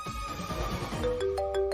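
A phone ringtone for an incoming call from the boss, a bright electronic melody of a few sustained tones that starts partway through, rising over a background of music and ambient sound.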